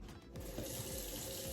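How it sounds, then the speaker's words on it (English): Hot water running from a sink tap, a steady close rush of flowing water that holds for the whole moment, used to rinse suds out of makeup brushes. "That's hot water running"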